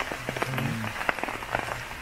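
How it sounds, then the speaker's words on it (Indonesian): Light drizzle falls on Gunung Salak, a misty mountain forest, as a steady soft hiss with scattered tapping drops, joined by faint low tonal sounds in the background. "Hujan, kabut, gerimis tipis-tipis gitu."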